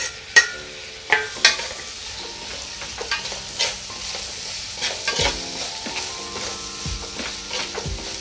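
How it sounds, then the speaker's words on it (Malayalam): Tomatoes are dropped into a pan of frying onions with a few sharp thuds, then stirred against a steady soft sizzle, with scattered scraping clicks of the spoon throughout. "സവാള എല്ലാം വഴന്നിട്ടുണ്ട്. ഇനി നമുക്ക് ഇതിനകത്തോട്ട് 2 തക്കാളി ഇട്ട് കൊടുക്കാം."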